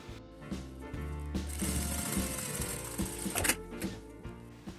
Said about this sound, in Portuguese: E vou fazer um pesponto aqui, lembrando desse meio centímetro.